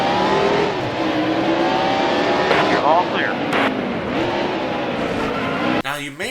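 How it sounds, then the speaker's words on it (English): Race cars from NASCAR Heat: Evolution roar continuously in a steady, loud engine drone with shifting pitch as they race, with brief passing whooshes near the end. "recognize the sounds of those cars"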